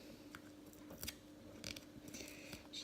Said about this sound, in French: J'ai des ciseaux qui coupent mal,